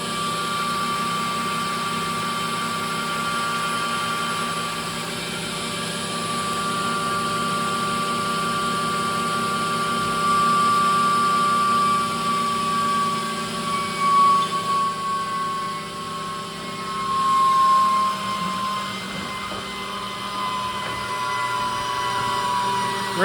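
High-speed seal test stand spinning at up to 70,000 RPM, a loud steady turbine-like whine with layered tonal hums that shift in pitch as the speed changes, heard alone throughout.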